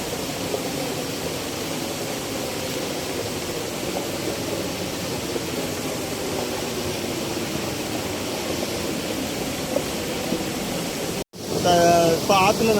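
River water flowing near a village, a steady broadband rush that stays constant and fairly loud, then cuts briefly near the end before resuming.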